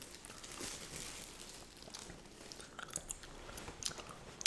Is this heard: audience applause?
no